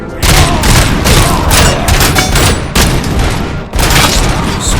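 Dense machine gun fire in the Robocop: Rogue City video game, loud, close rapid bursts with heavy booming impacts, broken by two short pauses before the firing resumes.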